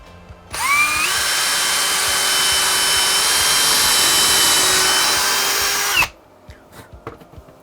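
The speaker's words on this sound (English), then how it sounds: "Once it's in place I can use a drill bit to make some pilot holes." A power drill whines up to a steady high pitch, drilling a pilot hole in an old whiskey barrel's wood for about five seconds, then stops, followed by a few faint clicks and knocks.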